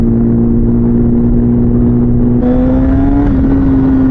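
A motorcycle fitted with a Translogic QSXI quick shifter and Domino XM2 quick-action throttle drones at a steady loud pitch, then clicks up a gear partway through with an abrupt change in engine tone, still pulling hard afterward.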